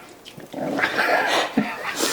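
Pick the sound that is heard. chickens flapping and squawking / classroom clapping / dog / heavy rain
dog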